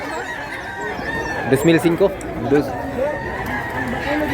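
Roosters crowing and hens clucking at a crowded livestock market in Mantalungon, Barili, Cebu, short bursts of fowl calls rising over constant crowd noise while someone talks nearby.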